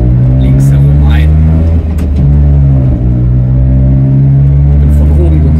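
A Piaggio Ape 50 three-wheeler drives through Sprockhövel, its small engine a loud, steady close-up drone with a slight dip and recovery midway. A voice briefly sounds over it.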